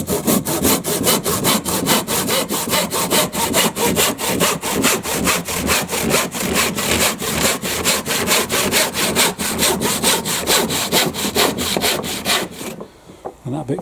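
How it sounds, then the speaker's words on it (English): A hand saw rasps through a wooden lap fence panel in a long run of loud, evenly rhythmic push-pull strokes, close and steady, stopping abruptly near the end with no talking. "as I cut down through it how these wobble about and grab the saw and make it difficult to cut"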